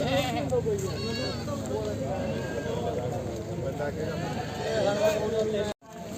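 A male goat bleats repeatedly at a busy outdoor livestock market, wavering cries rising over a constant crowd murmur and nearby voices.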